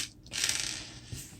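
A screwdriver drives screw pins into the body mounts of a Traxxas Stampede RC car, a close, quiet ratcheting grind lasting about a second, ending with a small click.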